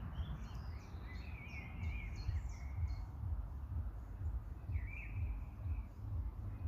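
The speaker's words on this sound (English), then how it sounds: "So if you like your bird watching, this is a place to come." Small birds chirp in intermittent bursts among trees near a fence, fairly faint and distant over a steady low rumble of outdoor background noise, with no one talking.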